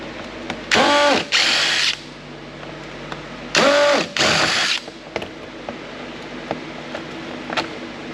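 Power driver backing Torx screws out of a credit card reader, two pairs of loud whirring bursts with ratcheting pitch, each about a second long, separated by quiet pauses and small clicks.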